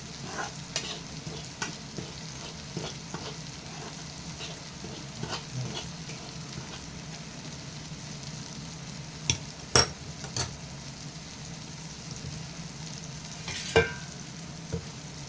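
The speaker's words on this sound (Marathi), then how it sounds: "इकडे आपण एकीकडे रवा भाजून घेत आहोत" Quiet dry stirring of semolina roasting in a pan, soft scraping and scattered taps of a spoon against metal, with a faint low hiss, no talk.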